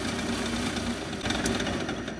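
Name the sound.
drill press running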